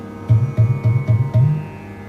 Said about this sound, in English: And the mouth part has the bass sound.